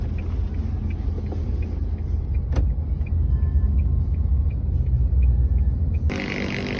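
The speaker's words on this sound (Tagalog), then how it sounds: "hinahatak na namin yung ano, yung sasakyan ni Kuya Ismael" A car being towed in the Paliparan area, heard as a steady, loud engine and road rumble that stays close throughout and ends with a sharp click and a brighter burst of noise.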